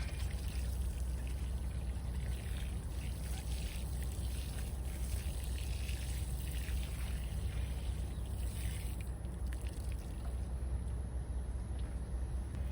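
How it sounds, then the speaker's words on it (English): Water pouring onto garden plants during watering, a steady, even hiss and trickle that continues without a break, fairly soft and with no talking over it. "let's give these a quick water"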